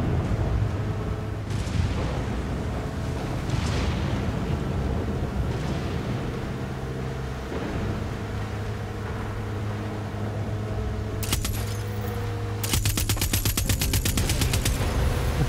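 Gunfire in Far Cry 6, with rapid bursts of shots over a constant loud game soundscape, the densest bursts near the end.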